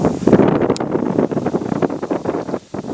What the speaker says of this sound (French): Donc fin octobre avec des rafales de vent à 60 km/h.